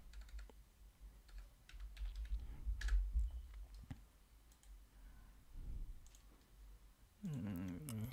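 Close, rapid keystrokes on a computer keyboard while typing a track name in FL Studio, in short bursts of clicks with brief pauses, followed at the end by a louder electronic synth tone.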